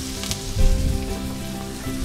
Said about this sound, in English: let's go ahead and throw in our half of a chopped sweet onion and about a teaspoon of minced garlic